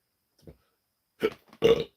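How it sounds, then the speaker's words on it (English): A person burps several times: a small croak, then two short, throaty belches, the last one the loudest, each separated by quiet. "About to hiccup and burp."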